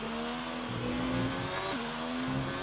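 Ferrari race car in a racing video game, its engine revving hard and shifting on track, a loud close mechanical whine rising and dropping in pitch with a gear change midway.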